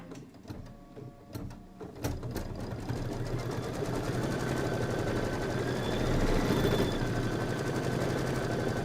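A sewing machine runs a tack-down stitch on fabric for a Kimberbell Pumpkins & Potions quilt project, a steady close mechanical whirr that starts after a couple of seconds and keeps going without pause.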